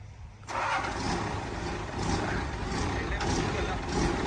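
A Macro 200-5 excavator engine, parked unused for four years, revs up loudly as the machine starts to move, a steady diesel drone with surging accelerations.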